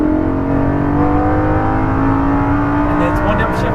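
An exotic sports car accelerates hard on a race track, its engine roaring loud and close with a steadily climbing tone over several seconds.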